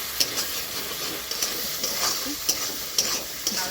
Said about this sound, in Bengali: আলুগুলো কষিয়ে নেব ভালো করে, কষে নেব। একটু কাশ্মীরি লঙ্কা গুঁড়ো দিয়ে দিচ্ছি